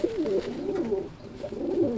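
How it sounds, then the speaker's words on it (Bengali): Several pigeons coo in a loft, low rolling calls repeating in soft waves, close and moderately loud with no talking. "আরেকটা ম্যান্ট্রাসি পায়রা দেখাচ্ছি"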